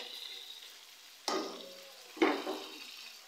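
Tomatoes dropped into hot oil with frying bhuna chicken masala, two sharp sizzling bursts that flare loudly and then fade into a steady hiss, close up with no talk.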